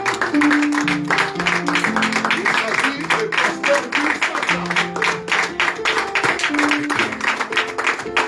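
A church congregation applauds in a steady wash of clapping that continues throughout, under someone speaking and some background music.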